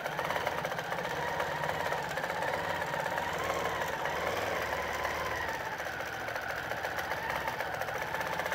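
Sewing machine set to a small stitch runs steadily as it sews around an emoji pillow piece, a close, continuous mechanical whir and rapid needle chatter with no pauses.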